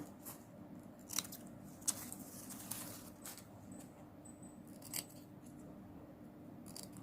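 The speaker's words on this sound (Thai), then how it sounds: "ตัดฝั่งที่ยาวกว่านะคะ ออกนะ ตัดให้เสมอกันนะคะ" Scissors snip ribbon ends to an even length, a handful of faint, crisp cuts spaced irregularly over a quiet room background.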